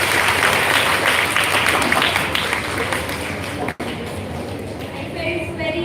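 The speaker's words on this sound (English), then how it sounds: "Huge round of applause for all the participants and all the speakers over here" A school audience gives a long, thick round of applause for participants and speakers, many hands clattering steadily with a brief break partway through, and voices mixed in underneath.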